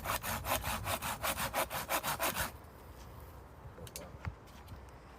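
A handsaw cuts through wood in about a dozen steady, rhythmic back-and-forth strokes, close and loud, then stops, leaving quiet background shuffles and a few small knocks.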